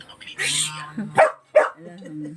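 A dog close by growls and snaps out two sharp, agitated barks in quick succession, followed by low grumbling.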